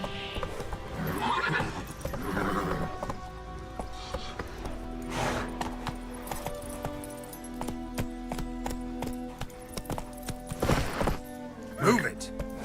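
Roach, the horse in The Witcher 3, trotting with rhythmic clip-clop hoofbeats and letting out loud whinnies, layered over game music and ambient sound.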